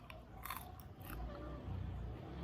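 Close, quiet biting and crunching of fried mole crickets cooked in coconut milk, a few crisp bites followed by soft chewing with no talk.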